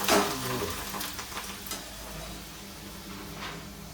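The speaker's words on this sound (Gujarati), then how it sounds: "આ પ્રમાણે ભૂંગળા અમે તળીએ છીએ." Bhungla papad snacks frying in hot oil, a soft continuous sizzle and crackle with faint bubbling, fairly quiet and steady throughout.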